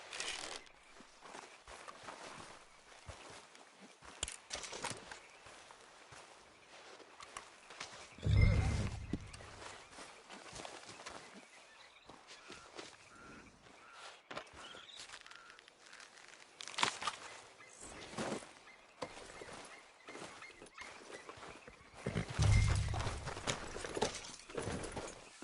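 A horse's hooves clip-clop in the video game Red Dead Redemption 2, a faint, uneven trot that runs throughout, broken by a few louder thuds.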